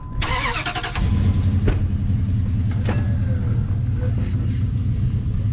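A stuck truck drives out under its own power, its engine revving into a steady loud rumble after a brief start, close to the microphone with no talk over it.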